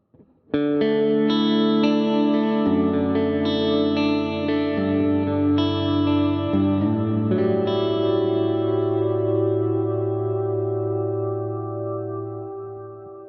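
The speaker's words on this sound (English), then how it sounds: "there is a little bit of modulation in there, so we're going to turn the vibrato on here" Sustained guitar chords through a Headrush unit, drenched in reverb with a gentle wavering vibrato, ring out steadily and slowly decay into a long tail at the end.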